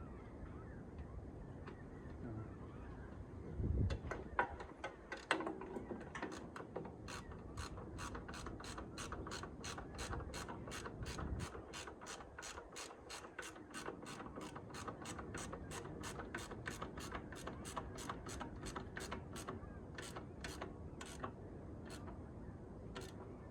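Wrench ratcheting on a nut during work on an International Harvester project, a long run of evenly spaced metallic clicks, faint and close, over low rumbling background noise.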